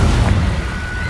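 Confringo spell explosion in a Harry Potter video game, a short, loud fiery blast with a dense rumbling burst that fades quickly.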